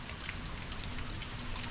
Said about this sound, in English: we have rain coming down today.